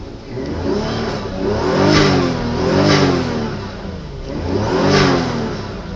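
A 1996 Toyota Cresta JZX90 engine revs up and eases off in three rising surges over a steady running hum, close and loud, with no voices.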